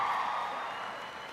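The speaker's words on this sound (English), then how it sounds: "Yeah, you can already give me applause." Graduation audience applauding, a dense wash of many hands clapping from a crowd, steady and even before easing slightly toward the end.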